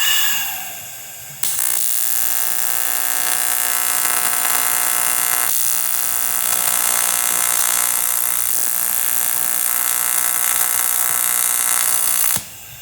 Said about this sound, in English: I have cleaned the inside with a Dremel because I got good penetration.